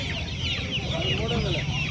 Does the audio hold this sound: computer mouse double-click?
no